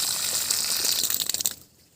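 Water gushes from a household pipe under high pressure, a loud, hissing rush with splattering bursts that cuts off abruptly into near silence.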